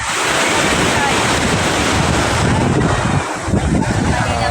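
Ocean waves break along the shore at Ilijan, Batangas, a loud, continuous broadband wash of surf heavily buffeted by wind on the microphone.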